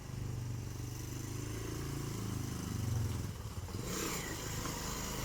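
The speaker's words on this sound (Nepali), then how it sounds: "दुईटा बाइक आइरहेछ यतातिर उतातिर गयो" Two motorbikes passing by on a Kathmandu street, a steady mid-range engine drone that swells slightly as they go past and then fades.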